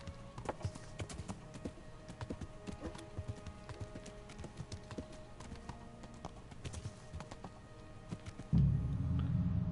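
Horse hooves gallop in a steady rapid clip-clop rhythm in the video game Kingdom Come Deliverance, fairly faint and continuous, ending in a louder low burst of noise.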